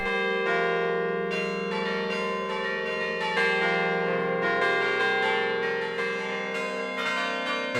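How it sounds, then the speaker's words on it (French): Church carillon bells in Grimmens ring a continuous melodic sequence, overlapping tones sustaining and decaying as new strikes come in every half second or so, full and steady without any voices. "le son des cloches, en particulier le son du carillon de Grimmens, m'avait beaucoup plu"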